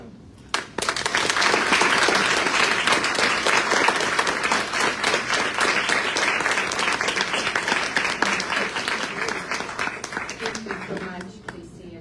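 Sustained audience applause fills a climate event hall, dense steady clapping from a large crowd that starts abruptly, holds loud for about ten seconds, then tapers off near the end.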